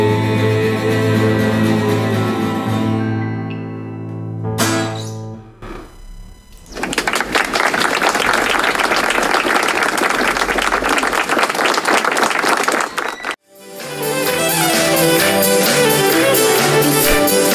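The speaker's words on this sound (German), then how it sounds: "ein bisschen Applaus lassen wir noch stehen" Studio audience applause at a local German music radio show: a dense, steady burst of clapping set between stretches of music, fairly loud and close, ending abruptly as the music returns.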